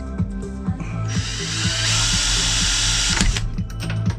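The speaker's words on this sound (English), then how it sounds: "I'll just go grab my drill and we'll get that drilled out for that to go in" A power drill bores out a hole on a boat, with a steady whirring motor that rises in pitch and grinds on as the bit bites, close and loud, with faint knocking underneath.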